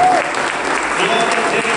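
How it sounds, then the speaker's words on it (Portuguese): Loud applause from a church congregation during a worship service, a dense short burst of clapping with voices mixed faintly underneath. "Agora libere um forte aplauso para ele"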